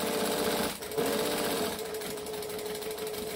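Sewing machine running steadily while stitching a jump stitch across to a second line on a bowler bag, a continuous close mechanical whir with a brief slowdown near the start, no talk.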